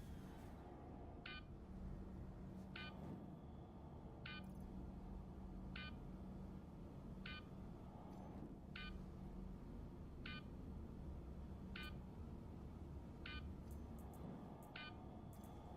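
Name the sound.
beeping in a video game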